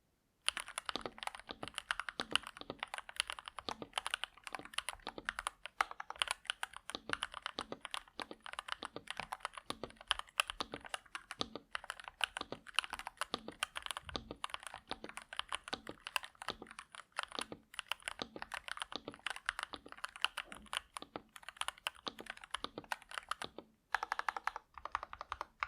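Rapid, steady clacking of keys on a Nuphy Halo96 mechanical keyboard, close up and alone, with a brief pause near the end.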